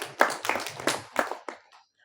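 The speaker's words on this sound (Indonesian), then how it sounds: "Tepuk tangan dulu untuk Pak Bupati." A few scattered, fairly quiet handclaps from an audience at a religious lecture, sounding as uneven individual bursts for about a second and a half before dying away to silence.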